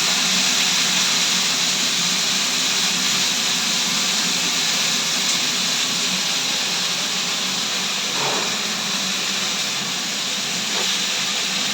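Leafy greens tossed into hot oil with fried garlic give a loud, steady hiss and sizzle that runs unbroken throughout, with a couple of faint stirring clinks.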